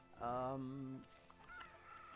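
A rooster crows once in the video game Okami, a clear, harmonic call near the start of the clip followed by softer game sounds.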